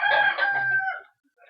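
A rooster crows once in a barn, a single clear drawn-out call of about a second, close and alone, with no talk over it.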